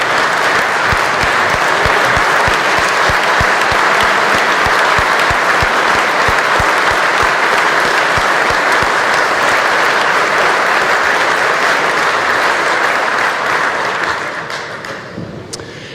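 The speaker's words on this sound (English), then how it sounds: "Let's give them a round of applause." Sustained, loud applause fills a large hall for the Kansas Supreme Court during the governor's State of the State address, with dense clapping and a few thumps before it thins out near the end.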